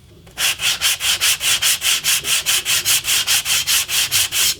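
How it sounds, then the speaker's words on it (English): Hand sanding of a Wolverine cosplay prop claw blade, a close, loud rasp of rapid back-and-forth strokes in a steady rhythm of about four strokes per second, with no talking. "this back bit here can get sanded"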